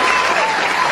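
Loud, dense applause from a large audience at a political poetry rally in India, a continuous burst of clapping close up with no voices over it.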